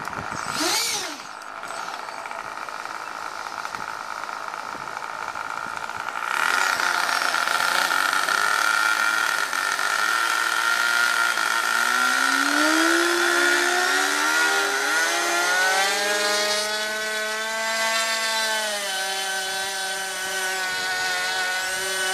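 Nitro glow engine on a hybrid nitro-electric RC airplane with electric ducted fans runs close by, a loud, high-pitched buzzing drone that jumps in intensity after a few seconds, then revs up and down with shifting pitch.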